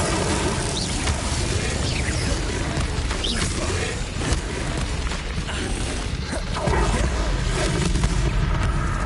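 The Incendio fire spell is cast during combat in Hogwarts Legacy on PS5, set among a constant loud wash of spell blasts, booms and crackling impacts with no quiet gaps.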